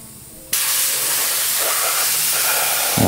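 A bottom-cup spray gun bursts into a loud, steady hiss after being opened one turn, then sprays continuously without a break once it starts.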